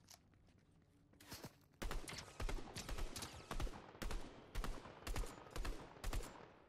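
Gunfire from the video game Fortnite: after a quieter lead-in, repeated loud, sharp shots ring out in quick irregular bursts and volleys, close and dominant, with no talking.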